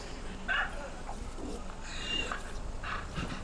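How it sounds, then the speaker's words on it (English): A robotic exo dog in Destiny 2 being petted, giving soft yips and whimpering barks in short bursts over a steady game ambience, fairly faint, with a voice talking in the background. "The exo dog that we saved from a space station above Earth."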